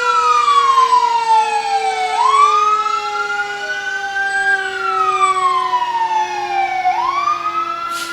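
A fire engine from Rockwood, City of Kingston, rolls through a 2018 Christmas parade in Harriman, its siren loud and close, sweeping up and down in long wailing cycles with no talk over it.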